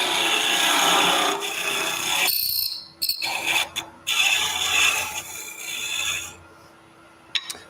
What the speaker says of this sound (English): Still doing a shearing cut with that parting tool.